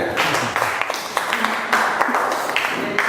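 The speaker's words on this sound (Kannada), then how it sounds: "ಕೊಡಿ ಒಂದು ಚಪ್ಪಾಳೆ." Audience applause at a Navaratri festival cultural programme, a broad steady wash of many hands clapping under crowd murmur, fairly loud and continuous for a few seconds.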